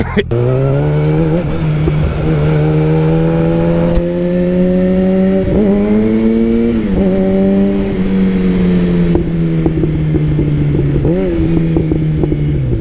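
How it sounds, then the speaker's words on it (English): A Yamaha FZ1 motorcycle engine drones loud and close, with quick throttle blips rising and falling in pitch as the rider makes rev-matched downshifts over a sustained engine hum. "That was a horrible rev match."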